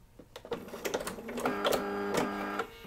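A sewing machine runs a short backstitch to lock a seam on a quilt block, a steady mechanical hum with clicking needle strokes building over a few seconds, close and fairly quiet.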